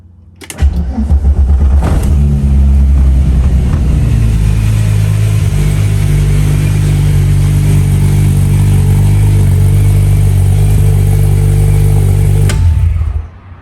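A supercharged VR6 swapped into a VW Mk1 Golf race car cranks, catches and settles into a loud, steady idle with deep low rumble, a few blips of revving near the start, then cuts off abruptly at the end.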